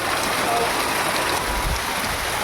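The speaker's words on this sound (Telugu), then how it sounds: "ఇంకా తర్వాత వర్షం పట్టుకుంది ఫుల్ గా దారిలోని" Steady, dense rain hissing across the whole clip, a constant wash of drops on surfaces with no talking.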